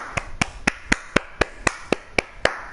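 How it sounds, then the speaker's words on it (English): One person claps in a slow, even rhythm, about eleven crisp, close claps with no crowd or talking around them. "Round of applause for Dragon."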